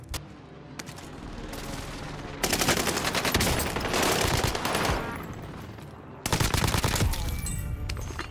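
Owen gun firing in Warzone, long loud bursts of rapid automatic fire broken by short pauses, close and dominant, with a little talk mixed in.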